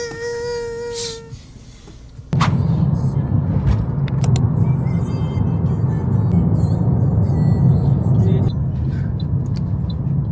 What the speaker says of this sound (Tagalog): Ayusin mo yung pagdadrive dyan, Jake.